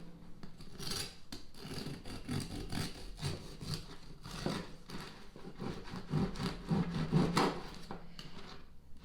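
A knife sawing through a crusty loaf of Irish soda bread, with a run of rough scraping and crunching strokes in an irregular rhythm, close and fairly quiet.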